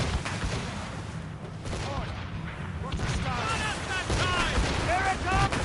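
Volleys of gunfire ring out in a naval sailing-ship battle, loud cracks and booms in bursts over a dense, noisy din, with shouted voices of the crew throughout.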